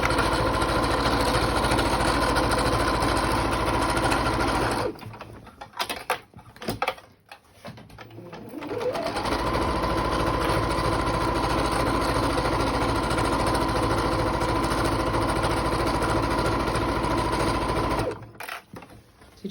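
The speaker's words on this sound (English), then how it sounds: "Needle down, back stitch, and we'll go all the way around, creating the first part of that channel." A sewing machine stitches lining and outer fabric together with a loud, steady motorized hum held close. One sustained run is broken midway by several seconds of stops and stutters, then it continues evenly before ending.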